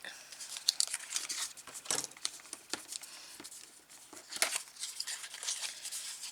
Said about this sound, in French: On va aussi marquer les plis.